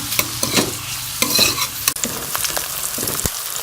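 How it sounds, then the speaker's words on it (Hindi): Chopped onion frying lightly in a pan gives a steady close sizzle broken by scraping stirs and a few sharp utensil knocks. "प्याज को हम हल्का सा फ्राई कर लेंगे।"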